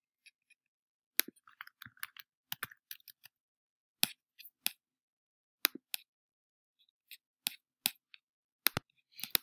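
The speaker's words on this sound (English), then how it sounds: "So as you see, I'm just typing and I'm erasing things to make it match what I have." Typing on a computer keyboard, with sparse, crisp key clicks arriving in short irregular bursts and single taps, separated by near silence.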